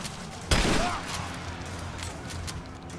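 A shotgun fired in the action game Rise of the Tomb Raider: a single loud, close blast with a short ringing decay, followed by quieter in-game background sounds.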